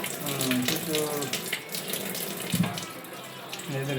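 Tap water runs steadily into a basin, a continuous splashing stream with a few clunks, and a voice speaks faintly underneath.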